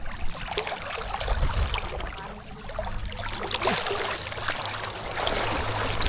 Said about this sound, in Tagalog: Lakas ng agos, di ko kaya.